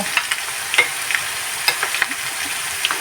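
Garlic paste and ginger paste sizzle steadily in a frying pan for a rohu fish dopeyaza, with sharp scraping taps of a spatula stirring at irregular intervals throughout.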